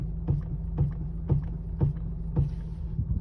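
Turning the steering on a Honda HR-V produces a rhythmic series of dull knocks or clunks, roughly twice per second, heard close over a low background rumble.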